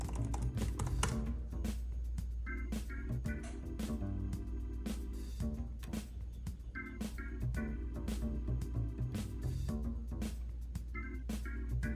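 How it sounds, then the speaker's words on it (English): Fingers type quickly on the scissor-switch keyboard of a MacBook Pro A2141, producing close, dense, fairly soft clicks in a continuous run with short bursts and brief pauses. "it's not quite as clicky, but it's not as hollow sounding as the old keyboard"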